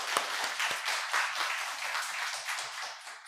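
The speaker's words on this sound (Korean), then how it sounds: "그분들이 올해 열심히 하실 수 있도록 우리가 격려의 박수를 보냈으면 좋겠습니다." A Korean church congregation at Sunday worship claps to welcome new choir members, a moderate scattering of hands with a few sharper individual claps, heard fairly softly in a large room.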